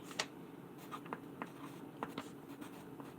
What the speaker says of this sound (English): Let this old lady write it down.